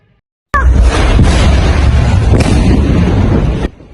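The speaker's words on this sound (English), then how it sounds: "a massive explosion erupted, causing the flames to surge and spread rapidly" A massive explosion from a severe accident bursts in suddenly and roars on as a loud, sustained blast for about three seconds, then stops abruptly.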